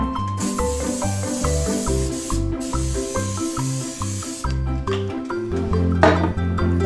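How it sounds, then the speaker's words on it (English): Cooking spray hisses onto a waffle iron in a kitchen, two long steady bursts of spray, close and loud, over a continuous rhythmic background beat. "here we're gonna spray the waffle now"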